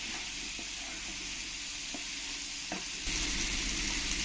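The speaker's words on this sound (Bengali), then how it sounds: "ভালো করে নাড়িয়ে চাড়িয়ে মিশিয়ে নিতে হবে" Ridge gourd is stirred in a pan with coriander and cumin powder, a soft continuous frying sizzle with a few light spatula scrapes, quiet and close, swelling louder toward the end, no talking.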